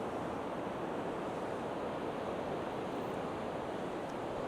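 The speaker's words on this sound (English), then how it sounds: "I'm just going to leave the surf noise on" Sea surf breaks on the beach at Sutton on Sea, a steady, faint broadband wash of waves with soft wind noise and no voices.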